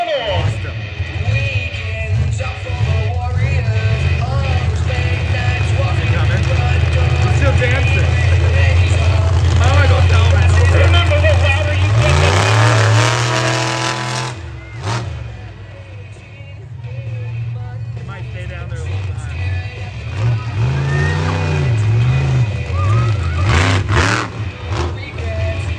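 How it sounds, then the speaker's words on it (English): A monster truck engine roars and revs at a freestyle show, loud and sustained with rising and falling surges, while an announcer's amplified voice and crowd noise carry over it. "Your first truck up in Monster Truck freestyle."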